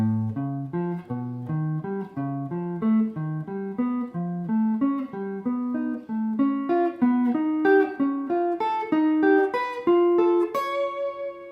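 Piano-like chords step upward one after another in a steady, even rhythm, each a bright augmented triad rising by whole steps, played alone.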